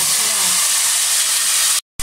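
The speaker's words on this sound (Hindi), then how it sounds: "अब मैं इसके अंदर ये प्याज डाल दूंगी।" Sliced onions drop into hot oil flavoured with chilli and cumin in a pan for beef korma, setting off a loud, steady, close sizzle that cuts off abruptly near the end.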